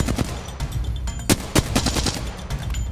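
Rapid video-game gunfire in a shooter: dense bursts of close, loud shots with a few sharper single cracks standing out, continuous for the whole stretch with no talking.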